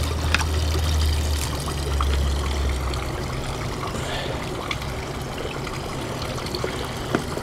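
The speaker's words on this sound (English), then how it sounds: "I'll take this bucket and put it up in another little pond." Water from a bucket splashes and trickles into a garden pond in a Wisconsin backyard, a steady close pour with a low rumble early on, then settling into continuous dribbling.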